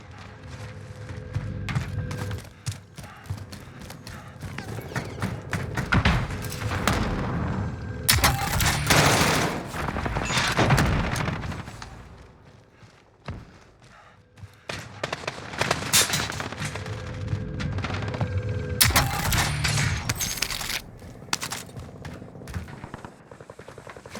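Gunfire in the video game Call of Duty Warzone on the Caldera map, with repeated bursts of automatic shots and louder clusters of rapid fire, mixed with fainter battle noise and little talk.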